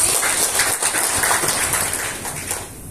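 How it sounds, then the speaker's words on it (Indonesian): Audience applause at a Gerakan Rakyat Untuk Perubahan workshop in Bandung: a steady crackling wash of many hands clapping at once, loud at first and thinning slightly toward the end. "Tepuk tangan dong."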